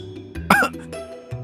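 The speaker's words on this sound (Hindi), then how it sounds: "अचानक खांसी आ जाती है" A man seated on a sofa with tea coughs suddenly indoors: one sharp, close cough burst in the middle, followed by a short throat sound and quiet room tone.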